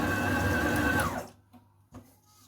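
A stand mixer or machine kneads bread dough with a loud, steady motor whir that stops about halfway through, leaving a quieter room with a few faint knocks.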